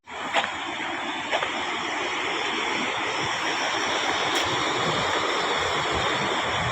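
Water rushes steadily through the overflow gate of Bhandardara dam, a loud, unbroken roar that stays close and constant throughout.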